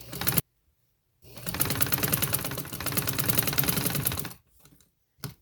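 A sewing machine stitches lace onto a piping neckline with a close, rapid mechanical chatter. A short burst is followed by a pause, then about three seconds of continuous stitching and a final brief burst.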